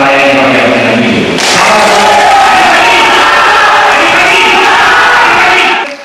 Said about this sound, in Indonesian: Sorak-sorai meriah yang dilakukan simpatisan 2 kubu membuat riuh suasana debat publik calon Bupati Waikanan